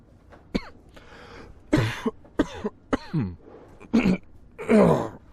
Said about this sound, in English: can mold cause coughing?